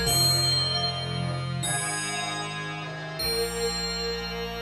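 Tubular bells ring out a pattern in a trap beat built in Maschine 2, three bright struck tones each sustaining and decaying before the next, played alone without drums.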